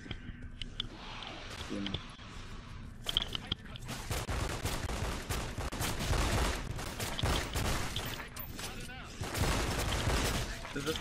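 Rapid bursts of gunfire and grenade blasts from a video game survival mod crackle densely and loudly throughout, with someone speaking briefly over the shooting.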